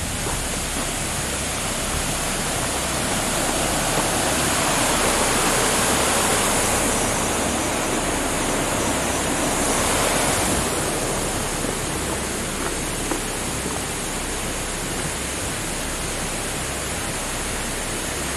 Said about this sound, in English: I hear a waterfall, though.